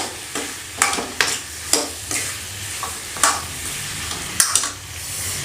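Potatoes and onions frying with spices in a pan, a soft steady sizzle broken by several sharp scraping stirs at irregular intervals, close and alone.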